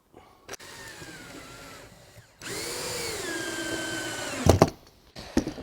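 Cordless power drill driving screws while a shelf is being put up, two whirring bursts that rise and fall in pitch, the second longer and louder, followed by knocks and clatter close by.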